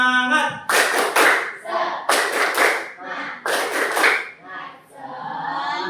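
A class in an Indonesian lesson performs a rhythmic clapping chant, voices singing between three bursts of loud, fast group clapping.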